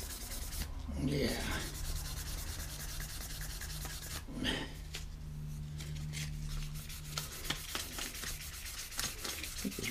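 Close, quiet rubbing and scratching of fine abrasive polishing a wooden spoon, repeated strokes with soft swishing bursts and faint knocks between them.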